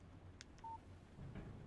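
Phone text message alert in the video game Alan Wake, a short soft electronic beep tone heard once, faint, amid quiet background noise.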